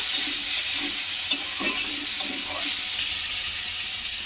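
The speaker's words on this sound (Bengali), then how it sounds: "সমস্ত উপকরণগুলো খুব ভালো করে আলুর সঙ্গে মিশিয়ে নিলাম" Spiced potatoes stirred in a hot pan, a steady close sizzle with several soft scraping strokes of a spoon through the mixture.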